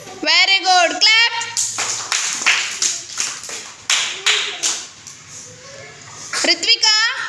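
A class of young children clap together in several short bursts, with an adult teacher speaking before and after.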